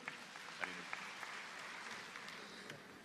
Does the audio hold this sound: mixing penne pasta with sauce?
no